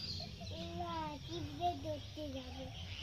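A chicken clucks and calls in a short run of rising and falling notes, with a voice nearby over faint background noise.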